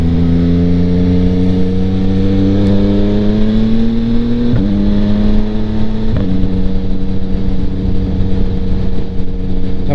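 A 2025 Yamaha MT-09 motorcycle fitted with a Kelpi Flanker exhaust cruises through suburban streets, its engine droning steadily close up, with rising revs and two quick shifts breaking the tone before it settles again.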